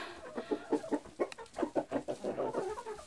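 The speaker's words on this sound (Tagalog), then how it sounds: "Yung mga rooster ko na ito, gustong pumasok dito kasi merong mga hen dito." Roosters on a farm cluck in a quick, uneven series of close, moderately loud bursts with no voices.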